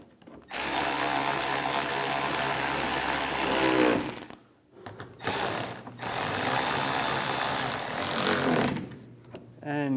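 Power tool driving bumper screws on a 2015-2019 Lincoln MKC, two loud close whirring bursts with a ratcheting rattle, separated by brief pauses and a short blip between them.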